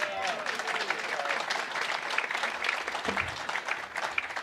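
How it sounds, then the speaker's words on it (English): A round of applause at a spectrum policy symposium, moderately loud clapping from a conference audience with scattered voices mixed in. "Has anyone given a round of applause to Coop today?"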